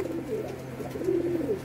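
A black Karmana pigeon pair, adult male and female, gives repeated soft throaty coos in a steady rhythm, close by and with no talk over them.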